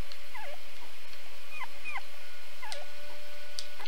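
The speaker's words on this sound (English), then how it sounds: "Probably 'cause it is puppy whining noises." Small puppy whining in the horror video game Rule of Rose, a series of thin, falling whimpers repeating every second or so over a steady hum, moderately close and with no talk.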